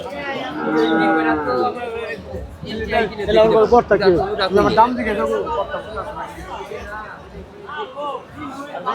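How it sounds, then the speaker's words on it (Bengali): Cattle low and moo repeatedly at a busy village cattle market (Joymondop haat, Manikganj, Bangladesh), with small and medium local cows. Deep calls overlap close by over steady crowd chatter and talking. "ছোট মাঝারি ছোট ছোট গরু"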